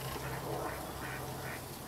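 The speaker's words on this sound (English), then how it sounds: "You can hear the ducks in my pool." Ducks quack repeatedly from a backyard swimming pool that has turned green and swampy, a steady run of nasal calls over constant outdoor background noise with no voices.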